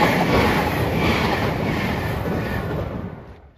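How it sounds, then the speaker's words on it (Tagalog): A Super Express train from Chubu International Airport in Minami Ward, Nagoya, rushes past close by with a loud, steady roar and rumble that slowly fades away at the end. "Super Express na tren yan, galing ng Chubu International Airport."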